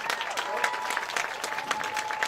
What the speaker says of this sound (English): Fans, let's give our seniors a great round of applause.